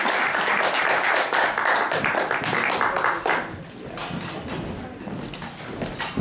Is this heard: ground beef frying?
no